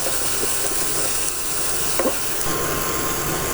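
A stuffed eggplant mixture is stirred in a saucepan, producing a low continuous sizzle and hiss with a few soft scraping strokes, the loudest around the middle.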